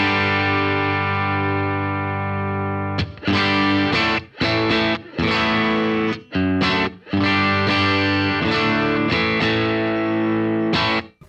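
Electric guitar played through a Matchless Lightning 15 amp with the reverb turned down: a sustained distorted chord rings alone, then choppy strummed chords start and stop in loud bursts.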